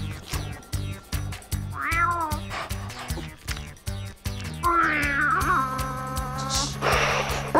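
A voice imitates a cat, giving a series of meows and drawn-out yowls, starting with short choppy bursts and swelling into longer, louder wailing calls toward the end.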